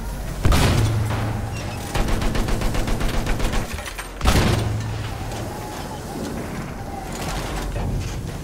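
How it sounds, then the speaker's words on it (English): Heavy artillery fire booms twice on a Battlefield 1 battlefield, each blast followed by a rolling rumble, with a rapid burst of gunfire and steady engine noise in between. "Artillery."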